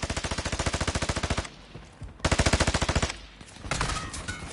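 Video game gunfire rattles in rapid automatic bursts, two long loud strings of shots separated by brief pauses, then a shorter, rougher burst.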